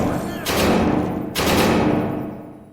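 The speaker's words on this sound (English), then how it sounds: "I'm gonna whack him with the sledgehammer" Two heavy sledgehammer whacks landing on an enemy in a first-person video game, loud booming impacts about a second apart, each trailing off into a decaying rumble.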